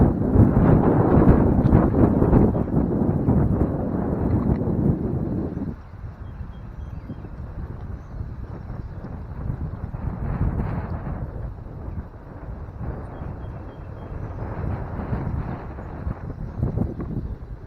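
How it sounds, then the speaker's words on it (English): Gusty outdoor wind buffets the microphone with loud, broadband rumble that eases after a strong opening burst, then keeps rising and falling in softer gusts on a cool day, with no voices. "It's a little cool because of the wind."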